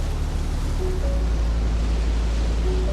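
Tall, cold waves churn across a river in rising afternoon wind and heavy snow, producing a steady, loud rushing roar with no pauses.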